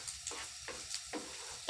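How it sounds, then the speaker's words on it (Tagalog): Garlic and onion sautéing in a pan for kimchi fried rice, a soft steady sizzle punctuated by rhythmic scraping strokes of a spatula, fairly quiet and close. "Gisa-gisa mo lang siya."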